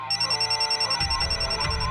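A cell phone rings aboard a plane in a steady, repeating electronic ringtone pattern, loud and close, with a low rumbling cabin hum rising beneath it partway through.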